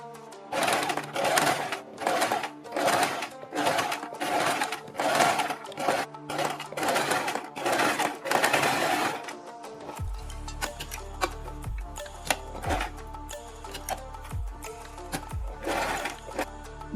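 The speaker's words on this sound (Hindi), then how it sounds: "हम बुकरम के बिल्कुल बराबर में पूरे गले के ऊपर एक सिलाई लगा देंगे" A sewing machine runs a line of stitching around a kurti neckline alongside buckram, in repeated short bursts for the first half. It then gives way to quieter ticking and clicking handling noises with low thumps.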